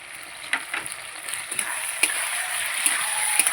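A soft, steady sizzle of spice paste of cumin, green chilli and mustard frying in a pan with beans and potatoes, with a few clinks and scrapes of a utensil stirring.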